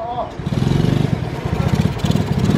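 A modified Shineray 100cc motorcycle with no clutch revs hard in short repeated bursts, its engine loud and close, while a voice calls out briefly at the start.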